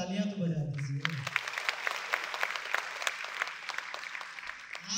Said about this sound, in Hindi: अब एक बार फिर से तालियां तो बजा दीजिए।